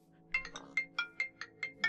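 A mobile phone ringtone plays a bright, regular series of about eight quick electronic chirps, evenly spaced and moderately loud, over a faint low background hum.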